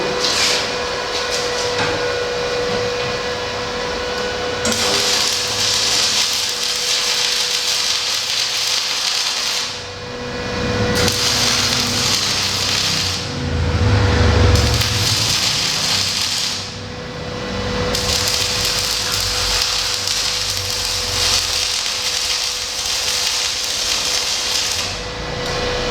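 A Benz MMA 120 arc welder at 60 amps with a 2 mm electrode, a continuous crackling hiss with a steady hum beneath, broken by short pauses between welds.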